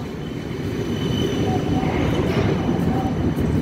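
A five-car Kaohsiung light rail train rolls past at Art Museum station, a loud steady low rumble of wheels and motors with a faint whine and brief high tones, close by and continuous throughout.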